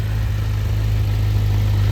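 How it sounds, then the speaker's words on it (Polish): Kawasaki Versys 1000 motorcycle from 2017 with an aftermarket Krapowicz exhaust, idling steadily with a low, even rumble, close and continuous with no talk. "jest wyposażone w akcesoryjny wydech Krapowicza. Naprawdę chodzi to bardzo fajnie na tym. Choć nie jest głośny"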